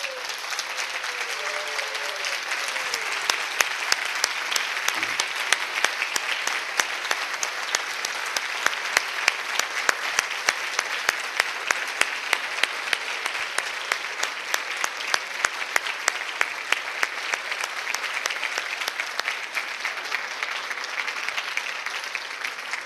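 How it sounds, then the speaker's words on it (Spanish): Sustained, dense applause from a large standing audience at the 2013 International Congress of Sintergetics; steady crowd clapping fills the full twenty-odd seconds at an even, full level without fading. "que diéramos un gran aplauso de agradecimiento"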